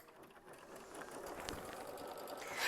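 An embroidery sewing machine stitches out a pattern step, giving a soft continuous mechanical whirr with faint rapid ticking, quiet and steady.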